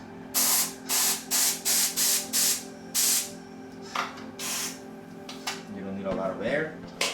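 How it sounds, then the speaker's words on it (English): Air compressor blowing in repeated short bursts while inflating and seating a mountain bike tire, loud hissing blasts in quick succession, then a longer softer hiss with a voice talking briefly near the end. "I have a compressor."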